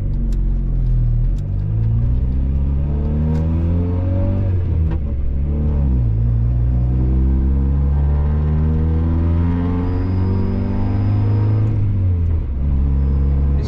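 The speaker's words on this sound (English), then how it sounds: "let's go ahead and fire this thing up and take it for a ride" A 1999 Honda Civic engine revving and pulling through gears on the road, repeated rising and falling engine pitch with rumbling, loud and close, no talking.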